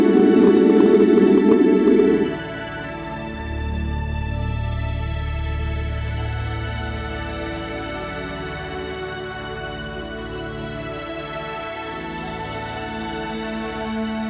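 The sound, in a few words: blue star's light spectrum converted into sound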